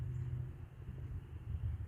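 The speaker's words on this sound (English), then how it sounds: "that's a motorcycle behind me" Low engine rumble from a motorcycle passing somewhat behind, a steady, faint drone that swells slightly, heard outdoors near a railway line.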